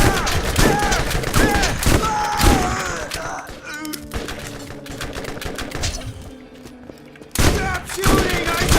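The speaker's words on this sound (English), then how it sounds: "Stop shooting!" Rapid bursts of shotgun and weapon fire in Borderlands' Dahl campaign, dense and loud at the start, thinning into scattered thuds and game effects mid-clip, then a heavy volley returning near the end, with voices in the mix.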